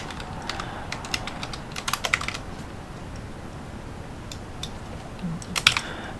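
Computer keyboard typing, close and fairly quiet, with scattered key clicks and short clustered bursts over a faint background hiss, and nobody speaking.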